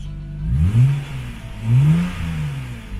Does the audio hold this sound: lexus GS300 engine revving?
yes